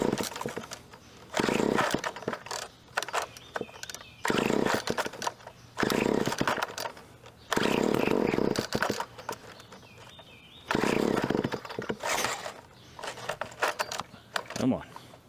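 A 1988 WeedEater GTI 15 string trimmer with a recoil needing attention is pull-started repeatedly, giving bursts of rough whirring and sputter roughly every couple of seconds, separated by quieter pauses, close to the listener.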